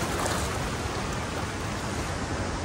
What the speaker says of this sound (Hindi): बहुत तेज बहाव था पानी का।